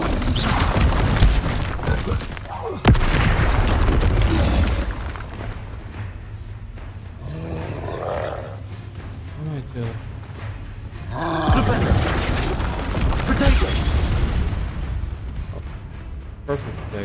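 Bombarda spell blasts in the game Hogwarts Legacy rumble and boom several times across the stretch, heavy roaring explosions mixed with game combat noise and a voice casting spells.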